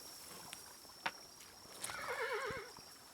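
Horse in the video game Kingdom Two Crowns giving a short, wavering whinny near the end, preceded by a few soft hoof clops and light splashing, faint and alone over a quiet background.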